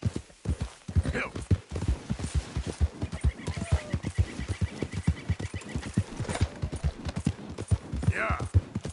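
Horse hooves in Red Dead Redemption 2, a rapid rhythmic clip-clop of galloping close up and steady throughout, with a voice speaking briefly.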